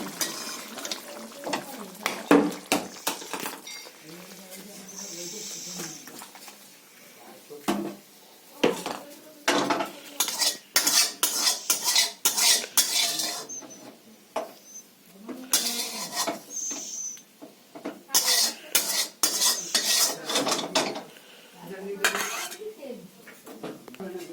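A metal spoon scrapes and clanks against a pan while a fish curry with potatoes is poured out into a dish, a run of close, sharp clatters and scrapes broken by short pauses, with brief talk in between.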